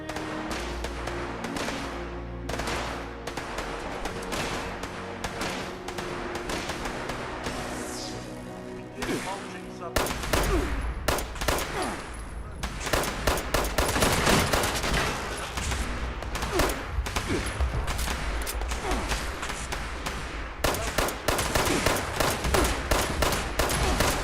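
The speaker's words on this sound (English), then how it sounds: "They're still shooting." Gunfire in Fallout 76 on PC rattles in dense rapid bursts throughout, steady at first and then louder and more crowded with overlapping shots, close and continuous.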